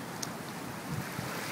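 Ocean surf washing in at a sunny beach, a steady broad wash of waves with soft rolling swells, heard alone without voices and with a little wind buffeting the microphone.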